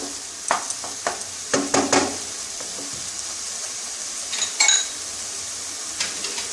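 Beetroot is stirred in a frying pan over a soft sizzle, with close scraping and clinking of a utensil against the pan in short bursts.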